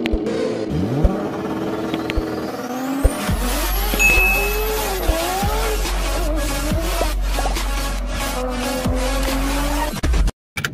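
A Fiat Uno's engine cranks and catches, then settles into a steady low idle hum that carries on for several seconds, with whining tonal sweeps layered above it.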